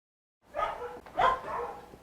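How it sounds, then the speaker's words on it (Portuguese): A dog barks outside in two or three muffled, moderately distant yaps that follow a short silence. "Era um cachorro?"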